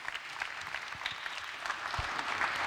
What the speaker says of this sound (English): Just clap it up one more time for our panelists.